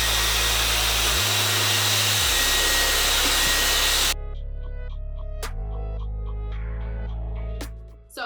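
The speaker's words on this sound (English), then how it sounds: "I'm gonna be using my Dyson, y'all, and I have the comb attachment." A Dyson hair dryer fitted with a comb attachment roars steadily and loudly while blow-drying natural hair, its pitch shifting as the speed changes, then it switches off into quiet handling noises near the end.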